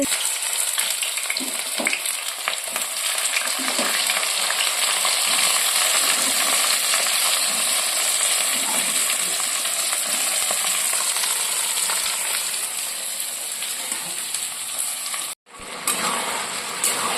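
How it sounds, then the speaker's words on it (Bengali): Ghugni, a dried pea curry, sautéing in a pan, a loud, bright, continuous hissing sizzle with faint scraping underneath, steady throughout apart from one brief dropout near the end. "ঘুগনি এখন কষছে ঘুগনিটা করা শুরু করে দিয়েছি"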